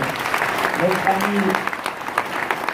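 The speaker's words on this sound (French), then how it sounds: "applaudissements s'il vous plaît" An audience at a Gault&Millau academy gathering claps during a roll call of chefs, a short burst of crowd applause with a voice speaking over it.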